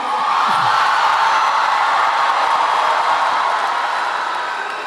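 A graduation ceremony crowd cheering and whooping, a broad, loud, sustained roar that fills the space and fades slightly toward the end.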